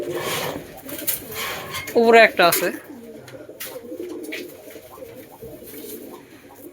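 Giribaj pigeons cooing at night inside a pigeon farm, two short close coos in the middle over a low murmur of the birds, with a person speaking briefly.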